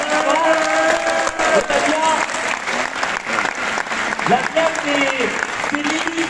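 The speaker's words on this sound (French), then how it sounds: "Vous pouvez aussi applaudir Lamia El Harraj, nouvelle députée du 20e arrondissement" Sustained crowd applause fills a hall at Anne Hidalgo's socialist campaign rally in Aubervilliers, loud and steady throughout while someone speaks over a microphone above the clapping.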